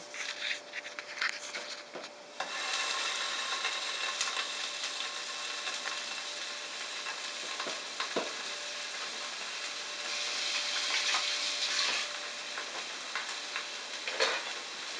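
Steady crackling sizzle of Spam slices frying in a pan, close and continuous, with a few occasional clicks and bumps.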